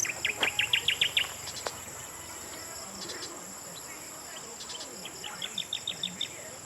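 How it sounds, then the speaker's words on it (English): A small bird singing on a farm in the Philippines: quick bursts of bright repeated chirps near the start and again near the end, over a constant insect drone and a faint voice. "we're really getting a performance from that little bird over there"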